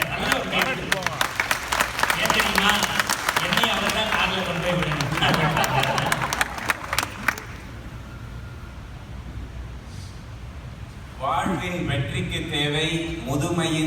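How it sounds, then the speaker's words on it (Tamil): Audience clapping at a Tamil motivational talk as a speaker comes on stage, dense applause under an announcer's voice for several seconds, fading out before more speech at the end. "அப்துல் அமீன் நம்முடைய ராம்குமார் உங்கள் கைத்தட்டலோடு துள்ளலோடு வருகிறார்"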